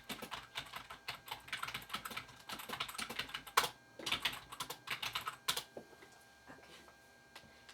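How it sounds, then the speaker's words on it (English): Rapid bursts of keyboard typing, close and fairly quiet, with short pauses between flurries and a couple of sharper key strikes, no voices over it. "I'll just type this down really fast."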